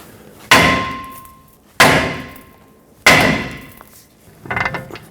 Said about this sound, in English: Leave this on a few threads so we can tap the knuckle, separate the stud from the knuckle